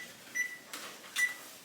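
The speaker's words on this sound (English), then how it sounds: "Let me preheat my oven." Two short electronic beeps from an oven control panel being set to preheat, spaced just under a second apart and faint in a quiet kitchen, with soft button presses between them.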